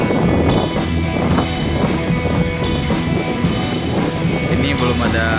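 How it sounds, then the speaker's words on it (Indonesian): Strong wind buffets the microphone on the coast at a fishing spot in Sabang, a continuous loud roar with gusty swells and low rumbling, and no talking. "Cuaca sore ini masih terpantau berangin."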